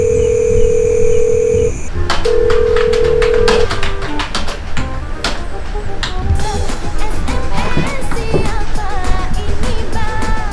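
A phone ringback tone carries through a call being placed from a broken iPhone, with steady repeated tone bursts at first, then busier clattering sounds and faint voices in the background, fairly loud throughout.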